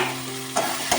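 Food frying in a pan for paneer butter masala being stirred, a short burst of steady sizzle with two quick scraping stirs, close and with no voices.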